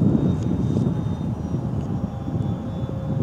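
An airplane in flight gives a loud, steady engine drone with a broad rumbling roar that holds evenly for a few seconds, close and unbroken by speech.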